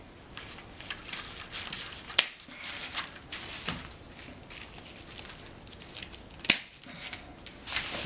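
Christmas tree branches snipped with secateurs while gathering greenery for a ten-inch wreath: two sharp, close cuts stand out over a constant rustle of handled foliage, with no talking.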